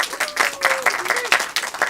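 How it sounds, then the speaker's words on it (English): An improv comedy audience applauds monologist Steph Winter with a dense, steady wash of clapping, fairly loud and close, with a voice rising faintly over it. "Everybody give Steph Winter a round of applause."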